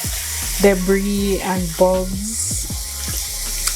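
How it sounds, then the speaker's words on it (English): Water drains and splashes in a kitchen sink from soaked sea moss, running steadily beneath a voice as she talks. "So now I'm just gonna drain this water and rinse it"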